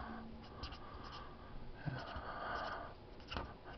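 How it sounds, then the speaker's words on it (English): A black pencil crayon scratches across paper in a faint, close, continuous shading texture with occasional firmer strokes. "So I'm just gonna use a black pencil crayon for that."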